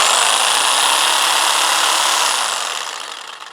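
A corded power tool runs at full speed from an Ecoflow River 2 Pro power station, a loud steady high whine that starts to fade in the last second as it spins down.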